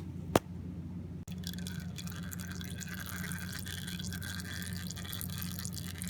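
Old oil draining from a lawn mower into a pan, a quiet steady trickle with light dripping, close and alone, with a couple of brief clicks near the start.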